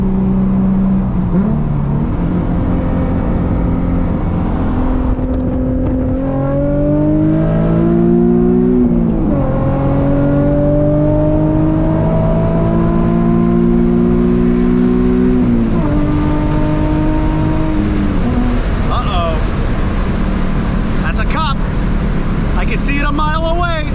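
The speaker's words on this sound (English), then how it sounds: "Go ahead and open up the windows here. You get more of that exhaust noise." Nissan 350Z drift car with a misfire, exhaust droning loud and close from inside the cabin as the engine climbs and drops through repeated revs and gear changes, with someone talking over it.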